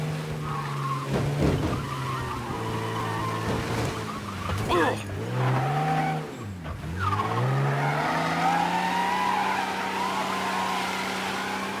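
A car in Mafia: Definitive Edition skids with long, wavering tire squeals over a revving engine, sweeping up and down in pitch before a crash, loud and close throughout.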